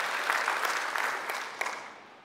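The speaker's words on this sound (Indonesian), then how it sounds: "Beri tepuk tangan bagi Tuhan." A church congregation applauds at a Sunday worship service, steady dense clapping from many hands that fills the room and then fades.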